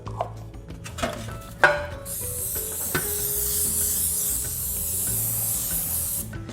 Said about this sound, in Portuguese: Eu utilizo aqui um desmoldante